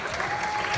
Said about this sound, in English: Can we please give a round of applause again for Dennis Arkle,